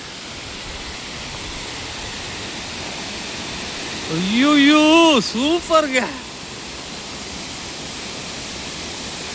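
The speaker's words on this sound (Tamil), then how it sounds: "அருவியப்பார்" A steady rushing roar of a waterfall at Salangor Temple Park in Malaysia fills the whole clip, with a man's excited exclamations briefly rising above it midway.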